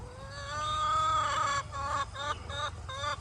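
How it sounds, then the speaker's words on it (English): A chicken on an overgrown farm being mowed, clucking loudly and insistently in a run of repeated squawking calls close by over a low background hum. "you're a loud chicken"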